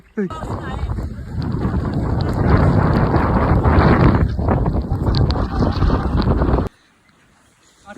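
Strong wind in Ooty buffets the microphone in a loud, continuous roar that swells and then cuts off abruptly near the end.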